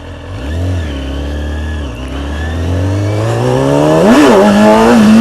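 A motorcycle accelerates hard as the rider slips the clutch to lift the front wheel, the engine note climbing in rising revs with a dip and a final sharp surge, loud and close.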